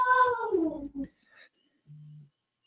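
A cat yowls once in a long, descending, drawn-out wail from a nearby bookstore, followed by brief faint sounds and a short low tone.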